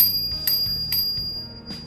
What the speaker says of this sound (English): I put one bell, an extra bell.